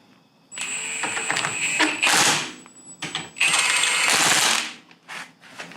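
Ratchet wrench tightening bolts during installation of an East Lake aftermarket axle, a couple of bursts of rapid clicking ratcheting close up with brief pauses between strokes.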